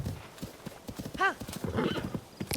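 A horse in the video game Zelda: Tears of the Kingdom gives a clear, rising-and-falling whinny amid steady clip-clopping hooves. Someone talks quietly underneath in French.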